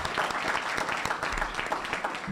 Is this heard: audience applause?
yes